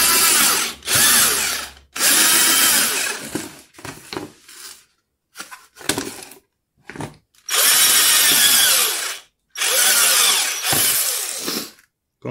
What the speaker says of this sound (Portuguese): Você vem aqui com a broca